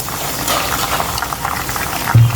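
Water poured into a hot wok of browned fried onions gives a short burst of bubbling, hissing liquid up close, ending in a low thump.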